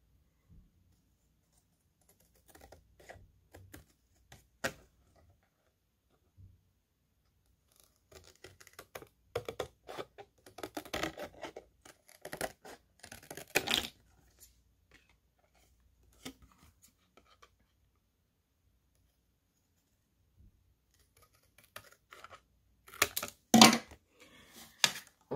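Scissors cut paper around a scored area, close and quiet. Irregular snips and crisp rustles come in clusters, with longer stretches of near silence between them.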